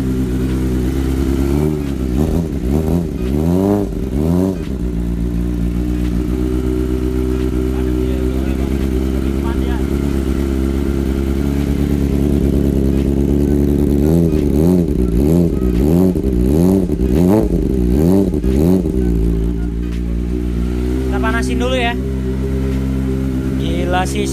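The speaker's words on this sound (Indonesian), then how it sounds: "Kita enggak dengar suara-suara motor kita, cuy. Terutama si Pana nih." Several motorcycles rev loudly and aggressively, including a Kawasaki-type bike, with repeated rising and falling throttle blips over a steady deep idle; people chat over the engine noise throughout.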